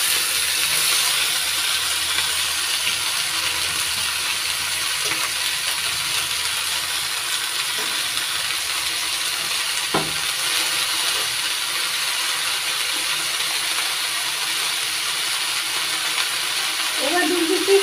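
Chulai greens hit hot oil with green chillies already fried in the pan, giving a steady, close sizzle and hiss with a few faint knocks of utensils.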